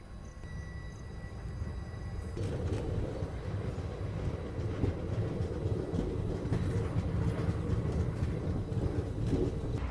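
An Indian Railways passenger train pulling out of the station after Kushinagar gives a steady, even rumble and rolling noise that grows slightly fuller after a couple of seconds, heard from on board with no talking.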